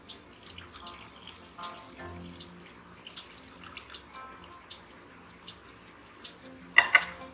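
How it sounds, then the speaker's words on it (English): Paneer soaking water running and pouring into a cooking pan with soft splashes, along with light clinks of utensils against the pan, close by and fairly quiet. "Now what we're going to do is add in the water that the paneer was soaking in."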